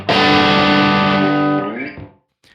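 Distorted electric guitar chord through a UAD Lion Plexi amp simulation with room tone, a loud sustained strum ringing for about two seconds and decaying, followed by a brief faint scrape.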